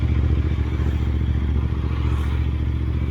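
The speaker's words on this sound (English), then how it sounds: "But it's popping like hell, guys. Let me get on the highway. Backfires बहुत आ रहे हैं." Royal Enfield Interceptor 650 running with a steady, loud low engine rumble and irregular exhaust popping and crackles throughout, close up, with no talk.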